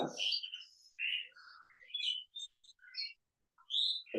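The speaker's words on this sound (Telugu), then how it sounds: "పక్షులు వచ్చాయన్నమాట విండో దగ్గర, అందుకే కొంచెం సౌండ్ వస్తుంది బ్యాక్గ్రౌండ్" Several birds chirp and tweet in short, bright bursts close by at a window, heard from indoors, with brief pauses between calls.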